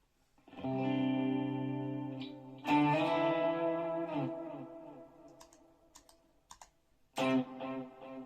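Electric guitar notes and chords ring out with echoes bouncing back and a lingering reverb tail, fading between phrases before a new strum.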